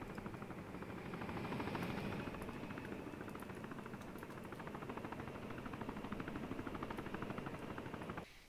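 A helicopter landing in the video game Arma 3 gives a steady whirring rotor and engine drone, fairly faint, holding for several seconds before cutting off near the end.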